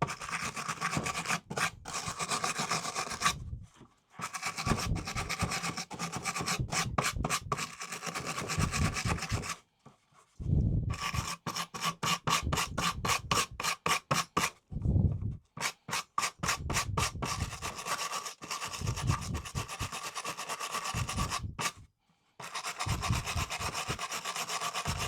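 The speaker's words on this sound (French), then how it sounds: "Je frotte les 6 vis de manière à accéder comme il faut au cruciforme." A small wire brush scrubs the six screw heads on a Navimow i210 Lidar Pro AWD robot mower, giving close, rasping back-and-forth strokes in bursts separated by brief pauses.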